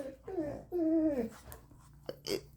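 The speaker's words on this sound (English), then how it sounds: "you're gonna hear this dog whining because they're playing" A dog whines while playing, with high drawn-out whimpers that slide downward, heard close, followed by faint breathy sounds and brief vocal noises.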